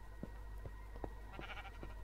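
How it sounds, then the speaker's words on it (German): Sheep in the Minecraft video game bleat in a few short, faint calls spaced across the moment, over a quiet steady background hum. "Oh, Schafe."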